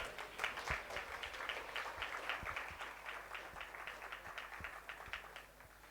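A breakfast-event audience gives a round of applause for a singing group, a steady wash of clapping lasting throughout at moderate distance, fading slightly toward the end.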